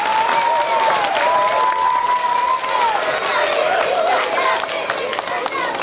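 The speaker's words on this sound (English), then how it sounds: "Give another round of applause to Mr. Tappan and Miss Davis." An audience applauds a school brass ensemble at a concert, giving a dense, sustained wash of clapping and some cheering that tapers slightly near the end. A voice talks over the crowd.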